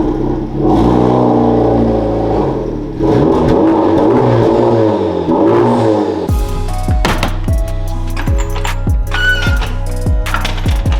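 Honda Civic Type-R FL5 fitted with an AWE touring kit exhaust revving loudly in repeated rising bursts, followed by a series of sharp, quick throttle blips with a crackly, popping edge.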